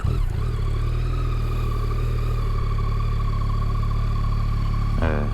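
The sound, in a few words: Yamaha XSR900 three-cylinder motorcycle engine running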